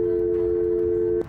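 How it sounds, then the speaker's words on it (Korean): Steady telephone dial tone held for over a second, then cut off, as someone calls a number; loud and close, with no talking. "그렇게 참가자들은 떨리는 손으로 전화를 걸게 되는데"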